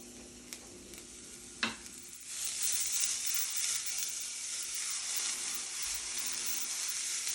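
Shallots land in hot oil in a frying pan with a short clatter, then break into a steady, bright sizzle that holds close and loud with no talking.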